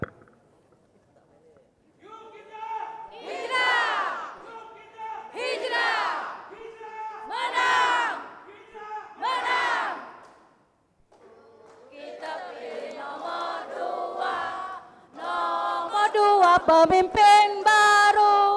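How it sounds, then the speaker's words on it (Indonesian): Supporters of candidate pair number 2 at a public debate for regent and vice regent of Belitung chant rhythmic campaign yells in unison, loud bursts with brief pauses, ending in a louder, busier stretch of shouting with percussive hits. "Berikutnya, yel-yel dari paslon nomor urut 2."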